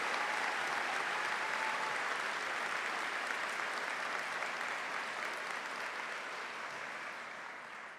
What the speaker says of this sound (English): I just wondered if we could have a special applause for the graduate students.